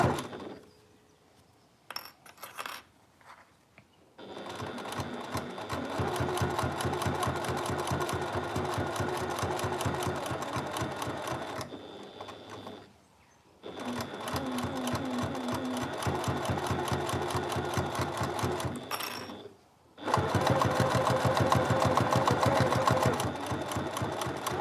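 A sewing machine stitches along the binding of a fabric project bag, running in fast steady bursts of needle chatter separated by short pauses and clicks, close and clear with no talking.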